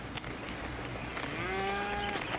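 A herd of cattle lowing on the open range in a 1960s Western, one long drawn-out moo rising out of a dense, noisy outdoor background, moderately near, with no talking.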